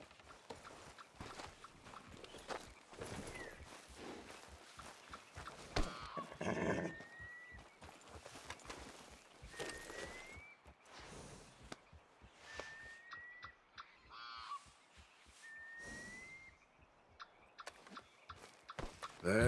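A horse trots along in Red Dead Redemption 2, its hooves clip-clopping in a steady rhythm with a few soft whinnies and snorts. Someone speaks over it at times, and a dog barks now and then.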